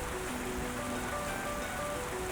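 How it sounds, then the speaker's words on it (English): Steady rain falling in the video game Ys X, a constant dense hiss with no breaks, alone and moderately loud throughout. "Judging by the clouds, I'd say this rain won't be letting up anytime soon."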